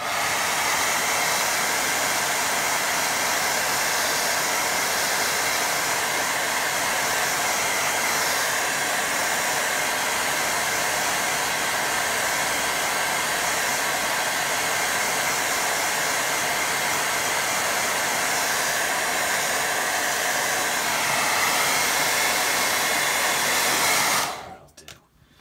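Hair dryer blowing over a watercolour painting of a cottage, a loud, steady close whirring hiss that runs unbroken for about 24 seconds before switching off abruptly, with no talk.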